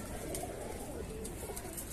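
Male and female Salati Kamagar pigeons coo softly in a low, steady murmur beneath a constant noisy background, with faint bird sounds throughout.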